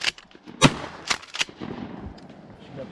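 Several loud shotgun blasts ring out in quick succession during a youth duck hunt in Wisconsin, close and sharp, followed by faint outdoor background.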